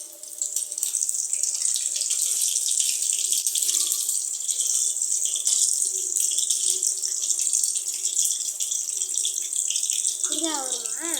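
Steady water pouring from a tap, a continuous close hiss that runs the whole time, with a brief clink near the end.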